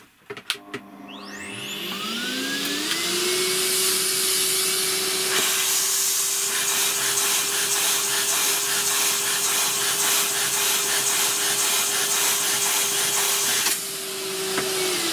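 A wooden air engine is spun up by compressed air, rising quickly into a steady, loud whirring hiss with a sustained hum that holds until it briefly drops near the end, with no talking.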